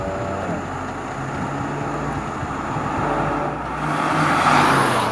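Skoda Octavia RS, a front-wheel-drive car with a limited-slip differential, pushed hard through corners; a steady engine drone and road roar swell louder toward the end, with no voices.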